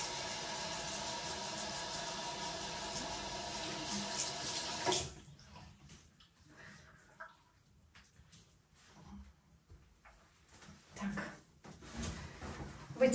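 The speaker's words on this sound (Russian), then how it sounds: "Смываю гель или умываю лицо." A tap runs steadily into a sink, then cuts off, followed by scattered close splashes as water is scooped and rinsed over a face.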